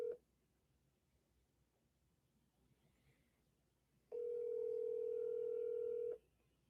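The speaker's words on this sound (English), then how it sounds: "Phone is ringing right now." An outgoing phone call rings: after a few seconds of quiet line hiss, one long, steady ringback tone sounds for about two seconds, then stops.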